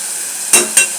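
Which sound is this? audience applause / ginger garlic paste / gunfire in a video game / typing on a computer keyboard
ginger garlic paste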